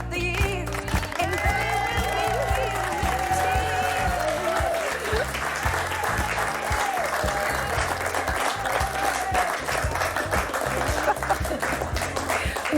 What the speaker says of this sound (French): Oh non, ils applaudissent toute l'équipe de Bel et Bien Ensemble.